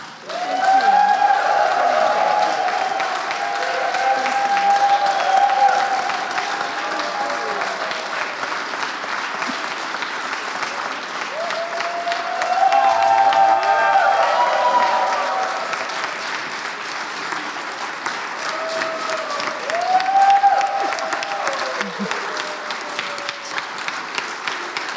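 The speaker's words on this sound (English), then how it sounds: "a round of applause, please," A seated audience at a valedictory session claps for Mansi, sustained applause rolling in waves that swell and ease for about twenty-five seconds, with a few voices faintly underneath.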